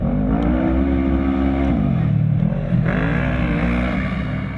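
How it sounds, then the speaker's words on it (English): Polaris RZR XP 900 side-by-side with a twin-cylinder fuel-injected engine, idling and running steadily with a loud, close drone whose pitch dips and rises slightly, no talk. "it's a twin-cylinder fuel injection engine"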